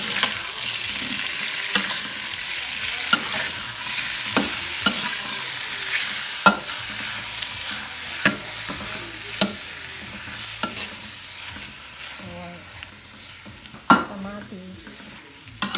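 Tomatoes stir-fry in hot oil in a pan, with a soft continuous sizzle broken by sharp intermittent clinks and scrapes of the spatula against the pan.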